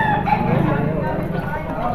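A large rooster crows loudly and close at a livestock market in Padre Garcia, Batangas, one drawn-out crow with clucking and market noise around it.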